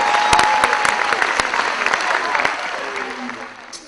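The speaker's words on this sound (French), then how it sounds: "Est-ce qu'on peut applaudir pour eux, s'il vous plaît?" Audience applause at a wedding show, a dense patter of clapping that fills the whole stretch fairly near and steady, then thins slightly toward the end.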